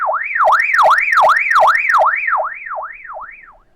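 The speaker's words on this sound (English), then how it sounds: "If you hold down this button all the way and hold it for a second, it turns into an alarm." A Baofeng UV-18 Pro Max handheld radio's loud electronic alarm wails in rapid rising-and-falling sweeps, about ten cycles, with sharp clicks on the first few, fading toward the end.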